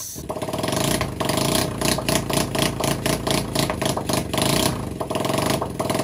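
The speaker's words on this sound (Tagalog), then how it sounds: "nakakabulahaw yung ingay ng motor" A loud motorcycle engine, a Suzuki Raider 150 with its exhaust removed, runs close by, its harsh, raspy roar pulsing with uneven revs throughout.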